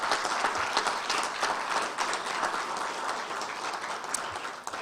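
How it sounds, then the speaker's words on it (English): Warm, continuous applause from an evening awards crowd at a health and wellness fair gathering, moderately loud and steady with occasional sharper claps standing out. "with a round of applause for our honorees tonight"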